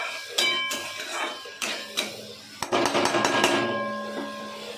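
Spatula knocking and scraping against a pan while spice paste for dhokar torkari fries, a series of sharp taps and clanks at close range, busiest toward the end, with a faint steady hiss underneath.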